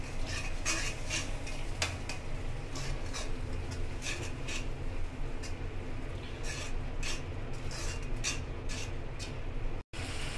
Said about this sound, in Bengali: এখন একটু নেড়ে চেড়ে দিব।